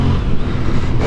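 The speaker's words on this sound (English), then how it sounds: "this really does have a delicious burble to it" A 2023 Honda CB750 Hornet parallel-twin motorcycle engine burbles steadily at idle, a low, throbbing rumble that stays close and constant throughout.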